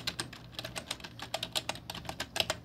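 Rapid typing on a computer keyboard in a Windows 11 PC setup, a steady stream of crisp, close key clicks with no voices.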